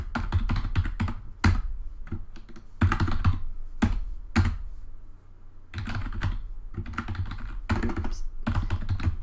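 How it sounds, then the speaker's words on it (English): Rapid bursts of clicking keystrokes on a computer keyboard, close and fairly quiet, with short pauses between runs of typing and no speech. "I'm just going to type it and then I'll explain this all in a sec."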